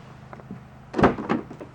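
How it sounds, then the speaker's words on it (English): A Mercedes passenger-side car door is handled, giving a solid thunk near the middle followed by a second softer knock and rattle, close by and alone against a faint background hum. "Let's go see if the passenger side door is locked."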